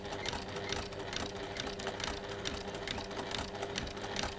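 A sewing machine stitches in the ditch along a quilt binding strip, a steady close whirring hum with fine rapid needle ticks running evenly throughout without a break.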